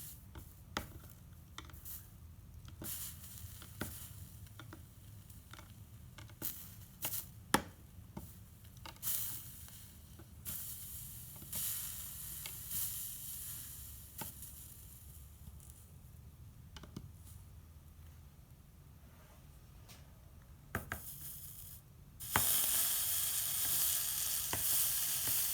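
Molten solder sizzles and crackles steadily on a stained glass seam, with a string of small sharp ticks and pops throughout and a brighter, louder hiss near the end, heard close with no talking.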